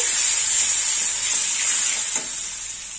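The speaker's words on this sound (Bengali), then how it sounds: "এবার দিয়ে দেবো গোলা মশলা, মশলাটা একটু ভেজে নেব।" Ground spice paste frying in a pan for a bottle gourd and chana dal dish, giving a steady, loud, close sizzle that runs unbroken through the clip with faint stirring scrapes and no talk.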